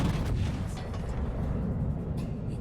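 Naval gunfire in World of Warships: heavy, booming artillery from big ship guns, a dense low rumble of continuous loud blasts with no speech.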